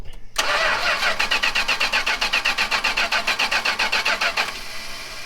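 A 440 big block engine from a 1974 New Yorker, rigged up for a revival attempt, cranks on the starter in a fast, even rhythmic chug for about four seconds without catching, loud and close.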